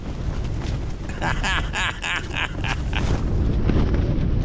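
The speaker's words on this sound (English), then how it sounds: "This is a good windstorm." Steady wind roars and buffets against the microphone, a constant rumbling rush throughout, with brief bursts of nearby sound rising over it midway.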